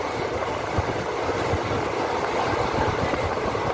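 Continuous low rumble of the moving Nagpur–Porbandar train heard from inside a carriage, with a steady roar and faint rhythmic thumps underneath.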